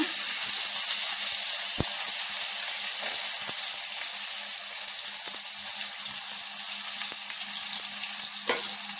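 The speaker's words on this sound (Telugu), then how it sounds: "4 స్పూన్లు నూనె వేసుకున్నాక కట్ చేసుకున్న ఉల్లిపాయలన్నీ నూనెలో వేసుకున్నా." Chopped onions fry in about four spoons of oil for a mutton keema curry, giving a steady broadband sizzle throughout with a few sharp clicks of stirring and no talking.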